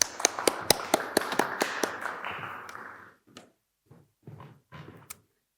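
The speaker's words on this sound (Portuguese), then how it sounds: "Uma salva de palmas." Scattered claps from a scientific symposium audience, a handful of sharp, fairly rhythmic hand claps that thin out and stop, followed by faint, brief sounds.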